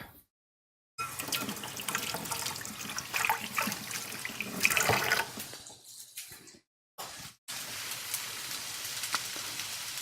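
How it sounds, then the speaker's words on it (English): A kitchen tap runs while a measuring cup is rinsed under it, the splashing water stream close and uneven, briefly stopping twice before resuming. "Let me wash out my measuring cup."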